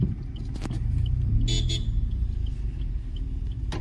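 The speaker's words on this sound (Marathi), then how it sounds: "मोठी गाडी आली" A large vehicle rumbles past close by with a steady low engine drone, and a brief horn toot sounds midway.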